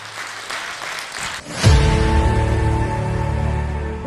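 Scattered clapping from an audience gives way abruptly to a louder, sustained sound with a low, steady drone and tonal hum that carries through to the end.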